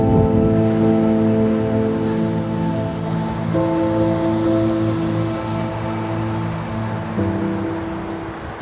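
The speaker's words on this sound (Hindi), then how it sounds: "ज़मीन के अंदर यहीं से पानी निकल रहा है।" Water gushes steadily from a spring emerging from the ground on a rocky glacier trek in the mountains, a loud, continuous broadband rush heard close up, with a faint tonal hum running beneath it.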